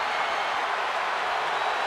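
A wrestling arena crowd roars and applauds for Brock Lesnar during a WWE Universal Championship Last Man Standing match, a dense, steady wall of cheering with no breaks.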